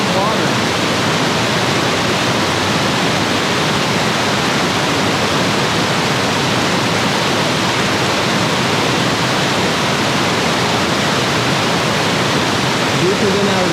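A swollen, high backcountry river rushes in a constant loud roar of churning water, close and unbroken throughout with no clear pauses.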